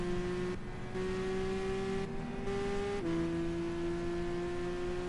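Yellow racing hatchback in Gran Turismo 5 lapping Monza, its engine holding a steady, loud tonal drone that shifts pitch slightly with gear changes and never drops out.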